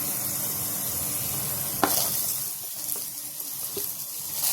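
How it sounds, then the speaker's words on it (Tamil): Frozen peas and onion frying in a pan give a continuous close sizzle with a sharp clatter near the middle and light stirring scrapes. No one speaks. "இப்போ கூடவே நம்ம கொஞ்சம் வெங்காயம் சேர்த்துக்கலாம்."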